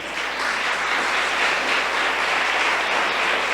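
A congregation at a church service applauds Jesus, a steady wash of many hands clapping together, even and sustained across the whole stretch with no voices standing out.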